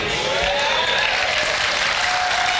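A comedy show audience claps steadily throughout, a dense continuous patter with faint crowd murmur and a thin tonal line running beneath.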